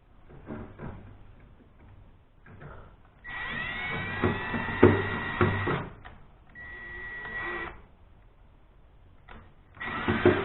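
A power drill running in reverse on a screw whines in several bursts of varying length, revving up and stopping between runs, with faint clicks and handling noise in the gaps.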